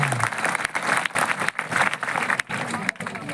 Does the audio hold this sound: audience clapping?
yes